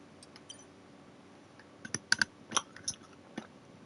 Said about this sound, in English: I got a bit of chewing gum.